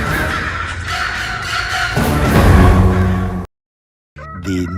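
Crow cawing in a few loud, harsh calls close by, followed by a short silence and a brief further burst of noise.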